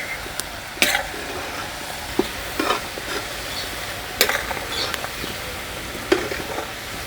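Curry leaves and 150 grams of crushed garlic fry in hot oil with chana dal, urad dal and dried red chillies for a tomato pickle, giving a steady sizzle broken by sharp spoon-against-pan stirring clicks.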